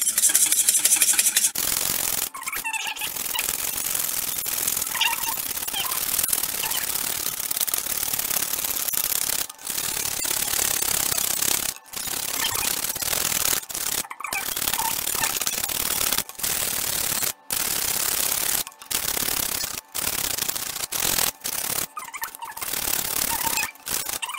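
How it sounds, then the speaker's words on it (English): Whipping cream beaten hard with a whisk while being turned into homemade butter, a steady rapid scraping and rubbing that runs for the whole stretch with brief pauses between bursts. "I'm going to whisk it okay so now I'm going to start putting vigorous motion here so we're just going to whisk it"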